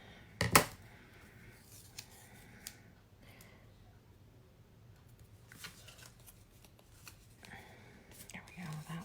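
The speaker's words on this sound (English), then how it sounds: "Even if you have to trim a little off, just do whatever" Scissors snip through paper while a birthday card is being trimmed, with a sharp cut near the start and a few softer snips and paper rustles later, close and fairly quiet.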